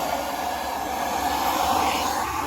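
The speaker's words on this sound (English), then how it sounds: "And I'll take my torch." A torch burns steadily during a woodgas generator setup on a Cavalier car, a continuous loud hissing roar that holds even throughout, heard alone without speech.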